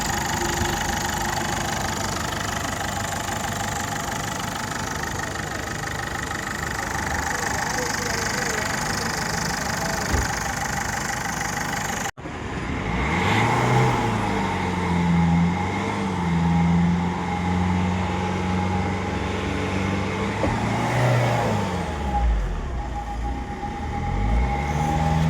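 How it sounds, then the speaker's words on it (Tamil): A 2010 Ford Figo's engine idles steadily up close, then after a cut a lower, throatier run of the motor rises and falls as the revs are blipped, with a person talking faintly over it. "இன்ஜின் சவுண்டு கேட்டு பாருங்கள்."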